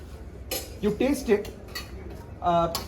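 A spoon stirs food in a dish at a hotel-school food presentation, making a few short metallic clinks and scrapes close by, with brief ringing tones between quieter moments.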